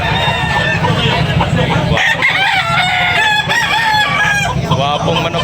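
Roosters and chickens at the Tabunok market in Talisay, Cebu, including a white Kelso, with repeated loud crowing and clucking from several birds over a busy, noisy background and some nearby talk.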